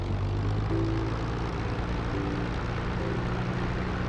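A propeller aircraft engine held steady at 1800 RPM during a run-up for a magneto check, a loud continuous droning hum with a low, even throb throughout.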